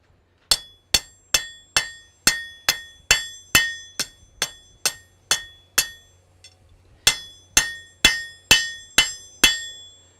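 Hammer blows ring on hot steel against an anvil in a smithy, about twenty sharp, evenly spaced metallic strikes with a brief pause midway, loud and close with no talk.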